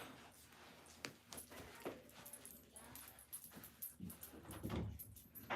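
Jitsu the dog at a house door trying to get in, giving soft whimpers and yips with faint scratching and door rattles. The sounds are quiet and intermittent, with occasional muffled household voices in the background.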